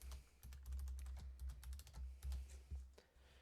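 A password is tapped out on a computer keyboard in quick, uneven bursts of close, crisp key clicks with brief pauses between groups.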